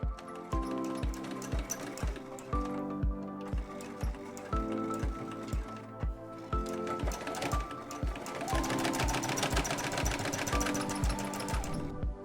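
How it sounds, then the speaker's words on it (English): Sewing machine stitching a quarter-inch seam down the side of a fabric wallet, a steady rhythmic needle thumping heard close up throughout, picking up speed toward the end, over light background music. "just sew right down this side with a 1/4 inch seam allowance"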